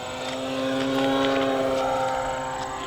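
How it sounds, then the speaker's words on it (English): An FMS Pitts RC biplane makes a full-throttle pass over the runway, its propeller engine giving a steady, loud buzzing drone that swells as it comes closest and then eases slightly while it moves off. "Let's do a full throttle pass over the runway."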